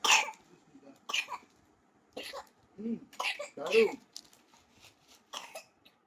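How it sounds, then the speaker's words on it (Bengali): Repeated short, sharp coughs at close range, spaced irregularly across several seconds, with brief voiced sounds between some of them. "কি হয়েছে এত কাশতেছো কেন"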